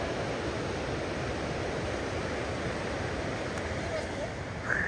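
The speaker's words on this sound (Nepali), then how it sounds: "फाइनली हामी चाहिँ होम झर्ना आइपुग्यौँ साथीहरू।" A waterfall on the Tilicho Lake trek in Manang, Nepal, with rain falling. It gives a steady, loud, close rushing roar with no break.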